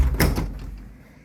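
A hotel room door in San Francisco, heard as a single close thud with a short muffled rattle that quickly fades, with no talking.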